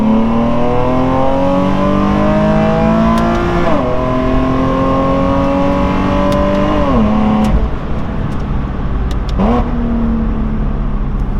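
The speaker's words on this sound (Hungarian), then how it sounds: "nem szeretem a katalizátor nélküli autóhangokat, nem tudom, valahogyan hülye érces, de ez így jó" A Nissan 370Z with its catalytic converter removed revs loudly and close by, climbing through three long pulls. Each pull rises in pitch, cuts off sharply, then drops back toward idle. The exhaust note is harsh and raspy.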